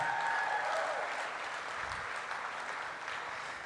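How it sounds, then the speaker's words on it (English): Applause from a large audience at a parks and recreation association's opening general session for the board of directors, a dense, steady roar of clapping that stays loud throughout, with a brief voice at the start. "humongous round of applause for your 2018-19 Board of Directors"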